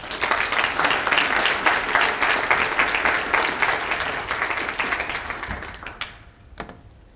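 An audience at a talk applauds to welcome author Susan Faludi: steady, dense clapping from a full room that carries on for several seconds, then thins out and fades to scattered claps.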